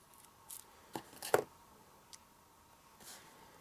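Scissors snip a narrow strip of decorative tape being trimmed to width for a paper craft card with a piggy design, a few short, quiet cuts in an otherwise hushed room.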